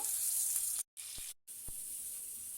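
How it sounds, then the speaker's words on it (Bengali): Tilapia fish frying in hot oil in a wok gives a steady, loud, hissing sizzle that carries on throughout, broken twice by short silent gaps. "কড়াইতে তেল দিয়ে দিয়েছি, তেলটা গরম হয়ে গেছে। আমি একে একে মাছটাকে ছেড়ে দেব।"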